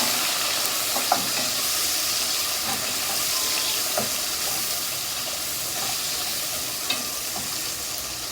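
Chicken with tomatoes frying in a pan in a small bachelor kitchen, a loud constant sizzle and hiss with a few faint clicks of stirring.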